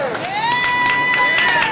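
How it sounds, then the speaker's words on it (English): A crowd of people queuing outside a large free medical clinic in Los Angeles cheers and shouts together, a continuous loud mass of voices with some high whoops and whistle-like calls. "those waiting in line cheer for the upcoming medical attention"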